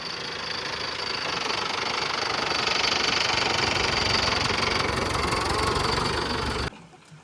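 A farm tractor's engine runs on a field, a loud, steady knocking drone that rises slightly and holds for several seconds before abruptly dropping away.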